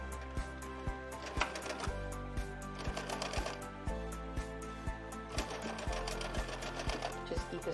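A sewing machine runs steadily as it stitches a seam on a fabric face mask, its needle thumping in a fast, even rhythm over a constant motor hum, close and alone.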